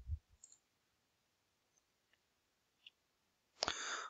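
A single sharp computer mouse click lands near the end, preceded by a few faint ticks and soft bumps against near silence.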